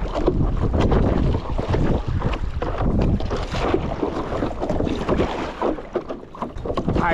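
Strong wind buffets a small rowboat or kayak on rough open sea, roaring against the microphone in loud gusts with splashing water underneath, sustained throughout.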